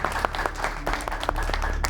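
An audience claps in dense, continuous applause at an interview event, loud and close, with no voices over it.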